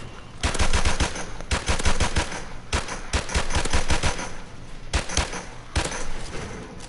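Rapid bursts of M9 pistol shots fired at targets, sharp cracks clustered in quick strings of three to five, with short pauses between volleys, loud and close.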